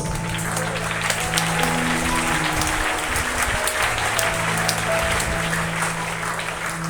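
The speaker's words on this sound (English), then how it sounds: "Let's give them a big round of applause." A school assembly audience applauds the students of class 3A and their teacher, Sister Mercy, with steady, full clapping that fills the room for several seconds under a low background hum.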